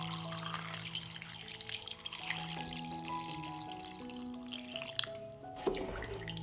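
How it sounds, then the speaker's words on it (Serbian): Water being poured into a pot over chopped potatoes, a steady trickling and splashing stream, close and soft, with a brief clatter near the end and no voices. "Sipat ću vodu da prekrije sve sastojke."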